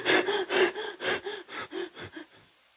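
A person imitates hyperventilation with about nine short, rapid, breathy gasps in a steady rhythm, loud and close, gradually weakening and fading out at the end.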